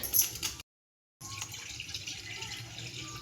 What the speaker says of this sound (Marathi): आपण आता सोयाबीन शिजायला पाणी ठेवणार आहे.